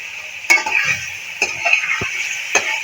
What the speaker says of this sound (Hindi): और इसको अच्छी तरह से फ्राई कर लेते हैं।